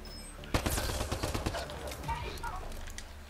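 Burst of gunfire in Mass Effect: Andromeda combat, a sudden loud volley of rapid shots followed by scattered quieter cracks, with a person talking over it.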